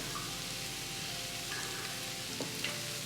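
Mushrooms and flour sautéing in a soup pot give a steady, soft sizzle and crackle, continuous and even throughout, with a few faint clinks near the end.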